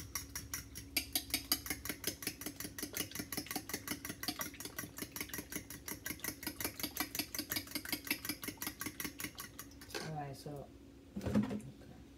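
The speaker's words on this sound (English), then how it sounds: "we're gonna beat the eggs" Eggs beaten with a whisk, fast regular clicking strokes against the bowl repeating steadily for several seconds, close and clear, then stopping as a brief voice and a short clatter follow.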